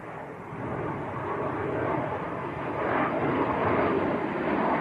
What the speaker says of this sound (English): Little bizjet just getting airborne.